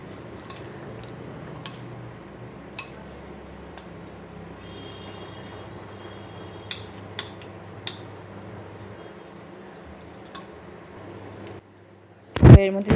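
A spoon works chicken sandwich filling and chopped onion together in a bowl, giving faint, scattered clinks and soft scrapes over a quiet background, then a short, louder clatter of utensil against bowl at the very end.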